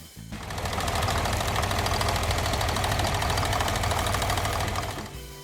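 A John Deere 4020 diesel farm tractor engine runs with a steady, dense, rhythmic thrum that fades up, holds at constant loudness and fades out, close and alone with no talking.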